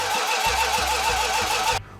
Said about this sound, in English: We had to do a few minor adjustments to get her to kick over and fire off.